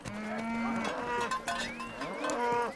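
A single cow of the Maasai herds moos in a long, wavering, drawn-out call that rises and falls, fairly close and alone with no talk over it.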